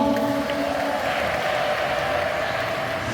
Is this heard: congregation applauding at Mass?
yes